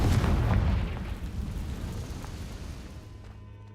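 A fire spell explosion in the wizarding game Hogwarts Legacy, a loud booming blast at the start whose rumbling tail decays slowly over a few seconds.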